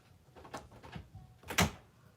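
A door is pushed against a crib blocking it from inside a room, giving a few soft knocks and bumps followed by one louder thud, close by with no talking.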